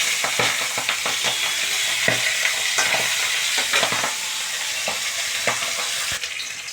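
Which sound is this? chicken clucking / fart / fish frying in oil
fish frying in oil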